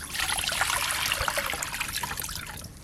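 Water pouring steadily into a pot of soaked kabuli chickpeas before boiling, a continuous close splashing rush that holds at an even level throughout.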